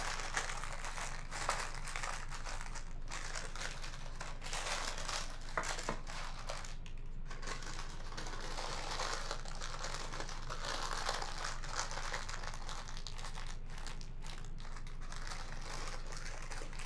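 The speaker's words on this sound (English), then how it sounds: "And then I'm just going to use this side of the parchment paper." Parchment paper crinkles and rustles as chewy no-bake granola bars are pressed into a pan, a close run of irregular crackles and soft taps lasting the whole stretch, fairly quiet and with no talk.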